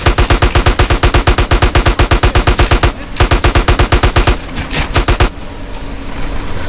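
Rapid automatic gunfire from GTA San Andreas gameplay, loud and close, in dense regular bursts with a short break near the three-second mark, then thinning out toward the end.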